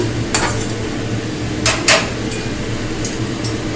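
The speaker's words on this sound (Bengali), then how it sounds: "কষে নেওয়া সয়াবিনটা একটা থালায় ঢেলে নিলাম" Cooked, fried soybean chunks tipped from a pan onto a metal plate for soybean kofta, a few sharp metallic clinks and scrapes over a steady background hum.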